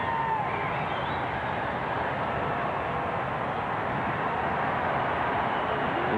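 Crowd at a Detroit Tigers versus Texas Rangers baseball game in Arlington doing the wave, a broad sustained roar of many distant voices, steady and dense throughout with no distinct individual talk.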